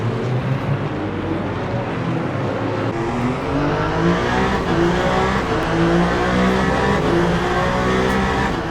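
The number 94 Peugeot 9X8 hypercar in the Le Mans Ultimate sim, racing the 8 Hours of Bahrain, drones steadily with its engine note rising and falling through gear shifts as it comes through turn 11, loud and continuous without speech.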